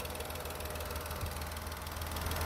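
A 2016 Dacia Logan with a 0.9 TCe 90 hp turbo petrol engine idles steadily, a low continuous hum with faint mechanical ticking, close and even throughout.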